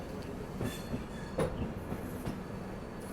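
Kolkata Duronto Express rolling slowly into New Delhi station, a low, steady rumble of wheels and carriages with faint clacks and squeals, no voices.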